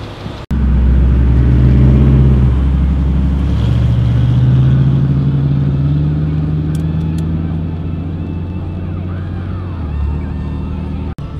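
A Cummins diesel truck drives steadily with a deep, continuous engine drone and low rumble that holds near and loud throughout, starting abruptly and easing slightly toward the end.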